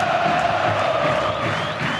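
Coritiba supporters in a Brazilian league football stadium raise a steady, loud wall of crowd noise, the massed voices of a home crowd carrying on continuously with no pause throughout.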